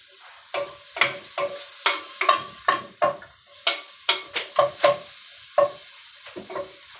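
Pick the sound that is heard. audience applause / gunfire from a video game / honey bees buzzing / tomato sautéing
tomato sautéing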